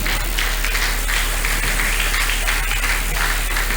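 A church congregation at a Sunday service applauds in a dense, steady roar of clapping that fills the room throughout.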